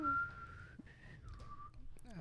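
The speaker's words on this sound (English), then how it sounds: "My whistle died. You play it and it goes." Someone whistles a short melodic tune on a toy or tin whistle, with sustained pitched notes that slide and break off, fairly close and clear over a faint low background.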